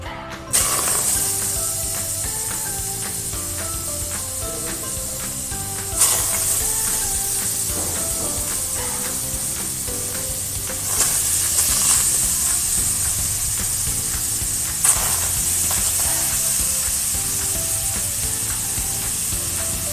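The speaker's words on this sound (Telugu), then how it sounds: "మటన్కి ఉన్న మ్యారినేట్ని మొత్తం స్క్వీజ్ చేస్తూ మటన్ని రోస్టర్లోకి యాడ్ చేసుకోవాలి" Marinated mutton squeezed into an AMC roaster over a low flame for zero-oil cooking, releasing a continuous loud hiss and sizzle with a few sharper bursts, beneath background music and no voices.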